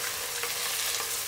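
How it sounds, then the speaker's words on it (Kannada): Sliced onions fry in hot oil in a pan for mutton dum biryani, giving a steady, dense sizzle that fills the whole moment without any talk. "ಇಷ್ಟನ್ನ ಹಾಕ್ಕೊಂಡು ನಾವು ಸ್ವಲ್ಪ ಹೊತ್ತು ಫ್ರೈ ಮಾಡ್ಕೊಳ್ಬೇಕು."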